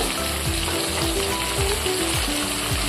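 Ginger, garlic and green chili paste frying with potatoes in a home kitchen pan, a steady, close, dense sizzle with faint scraping stirs, no talking.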